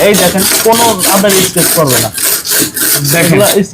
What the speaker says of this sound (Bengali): লোহা দিয়ে ঘষতেছে বাট পড়তেছে না